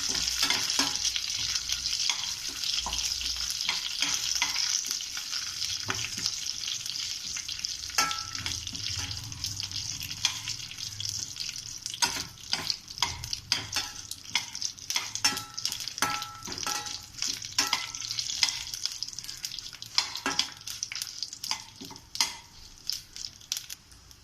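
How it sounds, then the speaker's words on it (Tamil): Chana dal, curry leaves and dried chillies fry in oil over a low flame, a soft steady sizzle broken by repeated scraping and stirring strokes that grow busier toward the end. "அடுத்து 2 காஞ்ச மிளகாய் சேர்க்குறேன். இப்போ இதை நல்லா கிளறி விடலாம். நான் லோ ஃப்ளேமில் வச்சுருக்கேன்."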